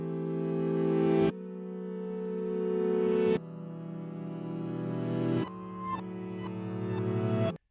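Reversed layered piano melody with a dry swelling texture: sustained chords grow louder and then cut off abruptly, repeating in several swells, with a few short plucked notes near the end.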